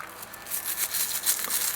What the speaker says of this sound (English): I've got a toothbrush here